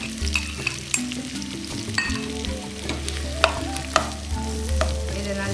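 Half a kilo of chopped onions sizzling in hot oil for a prawn thokku, a strong continuous frying hiss up close, with spatula scrapes and a few sharp knocks against the pan, no voices.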